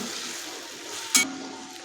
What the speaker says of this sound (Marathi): टोमॅटो ही आपल्याला तीन ते चार मिनिट मऊ होईपर्यंत परतून घ्यायचं आहे